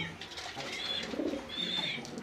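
Pigeons in a breeder's loft in Mirpur, Dhaka, coo softly at low level, with a couple of short rising calls standing out over faint background noise.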